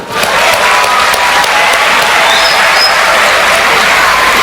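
Audience bursts into loud, close applause that starts abruptly and continues as dense, steady clapping throughout, with faint crowd murmur beneath.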